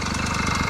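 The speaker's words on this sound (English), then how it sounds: "So you have to pull the clutch if you don't want the engine to stall, because it keeps rotating there." An 80cc engine mounted on a 29-inch mountain bike idles steadily, a close, loud, rapid putter with an even pulsing rhythm.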